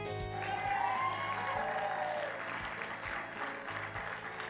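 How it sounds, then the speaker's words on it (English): Crowd applause in the video game Pivot of Hearts, a soft, distant wash of clapping after a song's long final note, with sustained musical tones and a low beat underneath. "the sound of clapping takes over everything"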